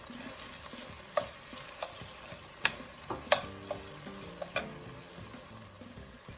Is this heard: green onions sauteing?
yes